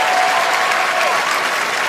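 A wrestling arena crowd cheers and applauds steadily throughout, a dense, loud wash of clapping and shouting with no break.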